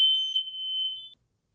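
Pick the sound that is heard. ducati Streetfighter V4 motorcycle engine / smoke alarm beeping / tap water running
smoke alarm beeping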